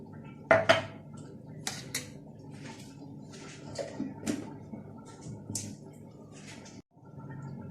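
A spoon scrapes and clinks against a pot while a spiced mixture of pepper, chili and stock cube is stirred, with scattered metallic taps and soft wet squelches, fairly quiet and close.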